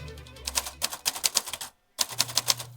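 Keys striking on a vintage typewriter in quick irregular bursts, loud and close, with a brief pause of silence before the clacking resumes; no talking.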